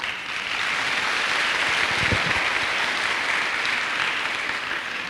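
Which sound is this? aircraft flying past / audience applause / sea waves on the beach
audience applause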